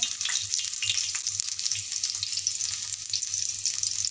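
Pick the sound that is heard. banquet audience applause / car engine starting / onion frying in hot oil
onion frying in hot oil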